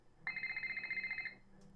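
A phone rings once in the Nancy Drew game The Deadly Device, a bright electronic trilling burst lasting about a second, fairly quiet and alone.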